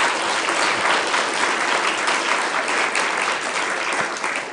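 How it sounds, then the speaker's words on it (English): An audience at an energy policy panel discussion applauds the panelists. Dense, even clapping from a full room carries on steadily for several seconds. "can we have a round of applause for the panelists?"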